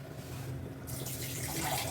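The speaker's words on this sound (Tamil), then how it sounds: "எந்த அளவுக்கு தண்ணி வேணுமோ அந்த அளவுக்கு ஊற்றிக்கலாம்." Water poured into chicken kulambu cooking in a pressure cooker, a steady, close, rushing splash that starts partway through and keeps going without a break, with no talk.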